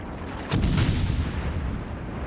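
Torpedo hits exploding against a warship in World of Warships, a sudden heavy boom with a rumbling, noisy tail that stays loud to the end.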